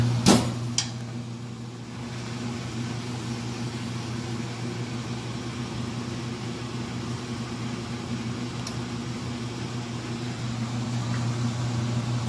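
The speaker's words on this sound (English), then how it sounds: "So that's going to spin for a little bit." A Frigidaire stacked washer drum spinning fast on its spin cycle makes a steady, continuous mechanical hum with a low droning tone. It runs at a constant level, with a couple of faint clicks near the start.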